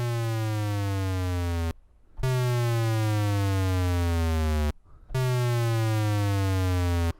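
Three repeated buzzy chiptune synth tones from the magical8bitplug2 plugin, each gliding steadily down from an octave higher, separated by brief silences; loud, with no voices.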